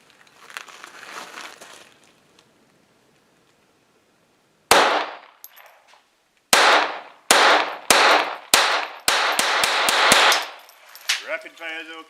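A Smith & Wesson M&P 22 pistol fires in rapid succession, with about a dozen loud, sharp cracks spaced under a second apart after a quiet stretch, close and distinct, with brief voices between shots.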